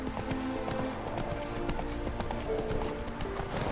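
Roach the horse gallops in The Witcher 3, with rapid, steady clip-clop hoofbeats running close and continuous throughout.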